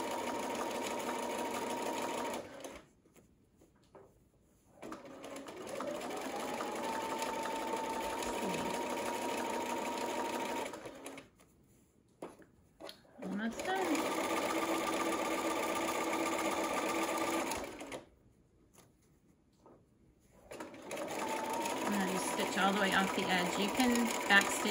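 A sewing machine stitches a flannel burp cloth in three long steady runs with short pauses between them, loud and close, a rapid even whir from the needle.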